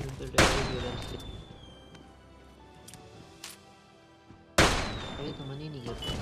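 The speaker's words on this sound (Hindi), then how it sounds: "जल्दी मैंने अपनी फ्लेयर चला दी दोनों।" Two flare gun shots fired in PUBG Mobile Lite, each a sharp loud crack followed by a rising whistling trail, spaced several seconds apart with quieter game ambience between.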